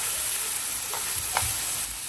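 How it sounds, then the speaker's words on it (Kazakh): Vegetables with salt and a little tomato fry in a pan, making a constant soft hiss with a couple of light stirring touches, no voices present. "Қуырып жатырмыз әлі."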